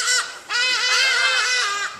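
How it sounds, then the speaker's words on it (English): Ibises calling as they fly around, two loud, nasal honking cries close by, the second drawn out for over a second, with no talking. "The beautiful sounds you're hearing are these ibises that fly around."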